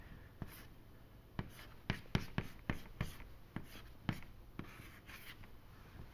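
A pen writes on paper, giving quiet scratching strokes and taps in an irregular rhythm, close and soft with no talk.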